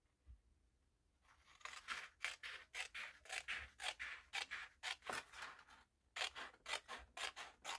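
Scissors cutting a strip of scrapbooking paper for a handmade gift card, a quick run of crisp, rhythmic snips close by, with a brief pause before more snipping.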